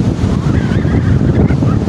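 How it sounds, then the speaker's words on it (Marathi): Sea waves washing onto the beach at Chaul near Alibag at sunset, a steady broadband rush of surf with wind buffeting the microphone throughout, loud and continuous with no speech. "छान असा हा समुद्र आहे."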